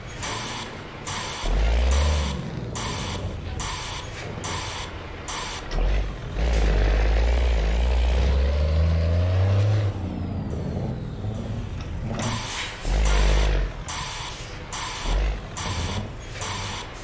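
Truck engine and air brakes in Euro Truck Simulator: a steady mechanical drone broken by rhythmic clicking ticks, with deep low rumbling surges of the engine and sharp hissing bursts of released air, fairly close and without talk.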